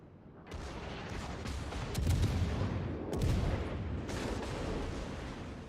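Naval gun salvos in the World of Warships video game, with a steady rumbling barrage of heavy booms building to two louder blasts in the middle, under faint mechanical background noise.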